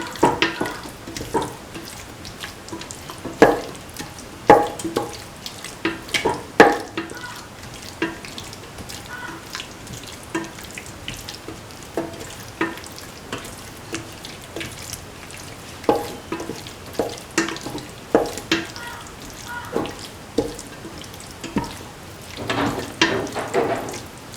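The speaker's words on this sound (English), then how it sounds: "Keep on sauteing. Thoroughly saute and mix." Beef, tomato and coconut milk stew being sautéed and stirred in a pot, with irregular spatula scrapes and knocks over a soft, low sizzle, the clatter coming in uneven bursts with no talking.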